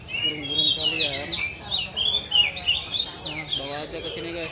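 Birds at a bird market chirp and call close by, with bursts of shrill tweets and squawks overlapping in an irregular, busy rhythm.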